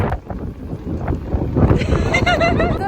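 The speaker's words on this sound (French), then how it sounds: "Je ne sais pas si vous allez m'entendre avec tout ce vent." Strong wind buffets the microphone on a hike to Grand Étang on La Réunion, a steady roaring gust that swells louder midway, with a person talking faintly underneath.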